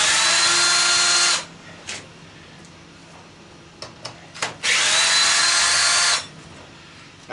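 A power drill runs in two long, loud bursts to back out the head bolts on a scrapped air compressor pump, with a few clanks and taps in the pause between.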